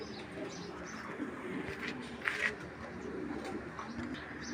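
A racing pigeon coos softly in a loft, with low, murmuring coos repeating over faint background noise and no voices.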